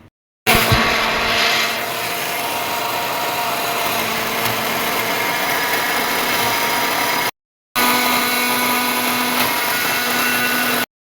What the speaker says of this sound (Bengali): এবার দারুণভাবে ব্লেন্ড করে নিব